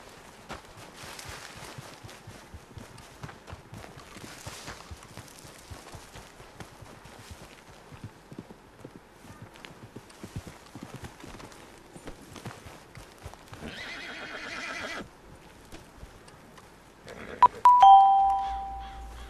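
A horse's hooves clop in a faint, steady rhythm, followed by a brief louder burst like a whinny. A bright, bell-like chime rings out near the end.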